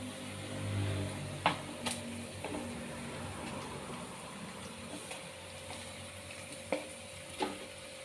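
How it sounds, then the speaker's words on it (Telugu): Chicken drops into a pan to fry, producing a soft, fairly faint steady sizzle with a few brief clicks and taps from the pan. "ఇప్పుడు చికెన్ వేసేస్తాను."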